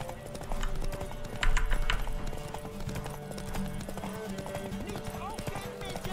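A horse gallops in The Witcher 3, its rapid clip-clop hoofbeats running steadily under game music and ambience while someone talks over much of it.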